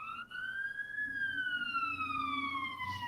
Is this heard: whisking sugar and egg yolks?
no